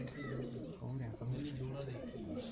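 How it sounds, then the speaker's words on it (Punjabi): Several pigeons coo on a rooftop in a continuous low murmur of overlapping calls, fairly faint, with voices and other background noise mixed in. "ਇਹ ਵੀ ਉਹਨਾਂ ਦੇ ਘਰ ਦੇ ਕਬੂਤਰ ਹੈ"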